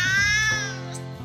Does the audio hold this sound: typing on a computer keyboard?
no